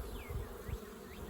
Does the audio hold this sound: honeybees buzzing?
yes